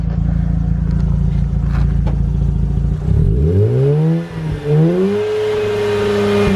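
A Mazda RX8 with aftermarket exhaust idles with a rough, steady rumble before being revved hard several times, rising to a loud rotary wail that swoops up and down, heard close and clear with no talking.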